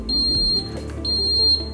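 An alarm annunciator panel sounds a steady high electronic beep in two long tones with a short gap, loud and close, over a low background hum.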